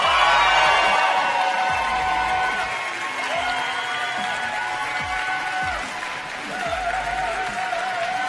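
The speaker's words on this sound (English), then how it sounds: "I don't know if you can hear the crowd," A competition crowd at the World Barista Championship applauds, cheers and whoops loudly and continuously, forming a dense roar of clapping and shouting voices that stays strong throughout.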